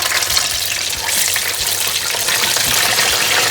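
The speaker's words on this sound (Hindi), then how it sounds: "और दोबारा मैं फ्राई कर रहा हूँ जी।" Fish coated in gram flour frying a second time in hot oil, a steady dense crackling sizzle with faint bubbling, close and continuous throughout.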